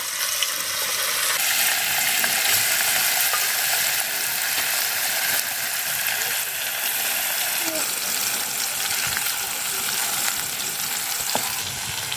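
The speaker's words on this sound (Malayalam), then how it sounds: "എണ്ണ തിളച്ച് കഴിയുമ്പോൾ മീൻ കുറേശ്ശെ ഇടുക" Steady, loud sizzling of fish pieces frying in hot coconut oil, crackling continuously throughout with faint voices in the background.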